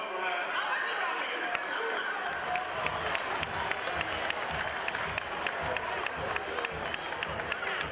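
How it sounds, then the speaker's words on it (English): Studio audience at a television talk show claps steadily throughout, a dense, moderately loud wash of applause with sharper individual claps and murmured chatter mixed in. "Please a round of applause for her."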